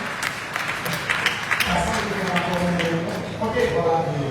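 Clapping rises from the audience at a professional school graduation ceremony, a brief burst of applause heard under a speaker's voice and a crowd's murmur.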